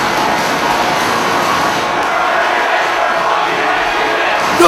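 Broad, steady roar of a video-game wrestling arena crowd in WWE 2K23, sustained and fairly loud with a rough chanting texture and no clear talk throughout.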